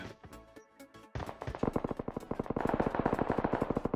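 Rapid automatic gunfire in the mobile game PUBG Mobile, a few scattered shots followed by a loud, dense, steady string of bursts that carries on to the end.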